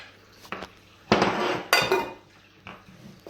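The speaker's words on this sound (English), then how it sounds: "you just pick a hole in the center and combine all the ingredients together" Chocolate chip muffin batter being combined in a mixing bowl, with a few sharp clinks and clatters of a utensil striking the bowl among softer scraping, close up and without talk.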